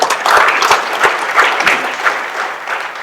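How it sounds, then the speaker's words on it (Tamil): An audience at an award ceremony for a Tamil film actor claps enthusiastically, a close, dense burst of applause with sharp individual hand claps standing out, lasting the whole few seconds without any speech. "உங்க கைத்தட்டுகள் அதை உறுதிப்படுத்தட்டும்"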